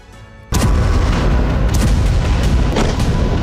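A loud, sudden blast from a Ukrainian attack on a Russian oil refinery hits after a quiet half-second, then gives way to a sustained, roaring rumble with a few sharper cracks inside it.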